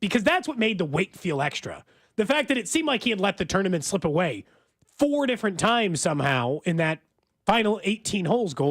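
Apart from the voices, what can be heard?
No everyday noise stands out behind the speech.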